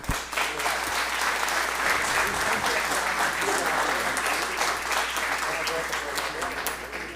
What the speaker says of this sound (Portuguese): Palmas, portanto, para o novo membro.